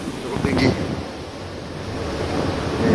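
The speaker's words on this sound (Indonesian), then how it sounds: "Ini dia ombak laut Jawa." Rough Java Sea waves rush past the passenger ship KM Dorolonda in December, a loud, steady surging wash with heavy wind noise on the microphone and a brief voice early on.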